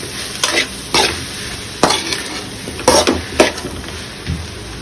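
Okra with turmeric and vinegar being stirred in a pan over low flame, a soft sizzle broken by several distinct scraping strokes of a spoon against the pan at irregular intervals.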